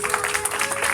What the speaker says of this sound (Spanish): Dale fuerte palmas al Señor.